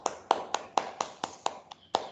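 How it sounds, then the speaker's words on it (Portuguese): Sparse hand claps from a small class in an online lesson, about nine evenly spaced sharp claps in two seconds, fairly close and moderately loud, with no talk over them. "Aplausos, pessoal."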